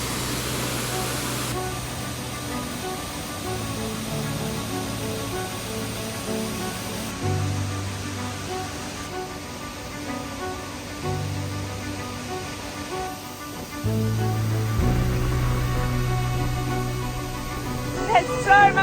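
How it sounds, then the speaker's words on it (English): A waterfall with heavy spray in Bosnia and Herzegovina makes a constant broadband rush of water throughout, mid-distance and steady, with low tonal hum and voices faintly underneath. "just to come and look at the waterfall"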